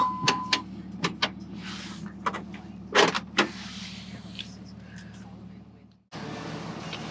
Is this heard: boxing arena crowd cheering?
no